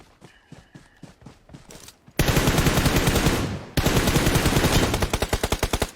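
Loud bursts of automatic gunfire in a video game shooting match, a sustained rapid volley followed by another after a brief break, preceded by quieter rhythmic thuds like footsteps.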